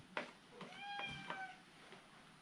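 A cat gives a clear, drawn-out meow close by, a single plaintive call rising and falling over a quiet background with a few soft knocks.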